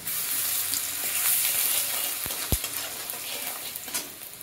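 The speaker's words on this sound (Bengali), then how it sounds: "রসুনটা দিয়ে দিলাম, স্বাদ মতো একটু চিনি দিয়ে দিলাম" Crushed garlic with a pinch of sugar frying in a pan for a fish-head curry, giving a steady close sizzle broken by a few sharp stirring clinks.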